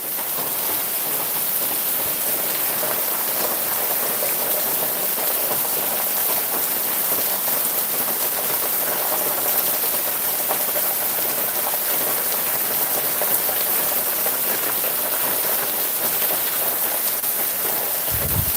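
Steady rain falling on open farm fields near the Gir hills, a continuous even hiss of drops that stays loud and unbroken throughout, with no talking.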